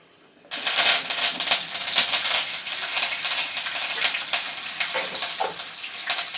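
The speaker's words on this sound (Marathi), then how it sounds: "आणि मग आपण घालू याच्यामध्ये जिरं मोहरी कढीपत्ता" Cumin, mustard seeds and curry leaves crackle and spit as they hit hot oil, a dense, steady sizzle with sharp popping bursts starting abruptly and continuing close and loud throughout.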